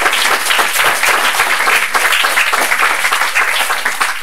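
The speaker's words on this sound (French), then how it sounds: "Vous pouvez applaudir Sydney du coup qui..." Audience at a storytelling talk applauding speaker Sydney with loud, dense clapping that fills the room at an even level, with no voices over it.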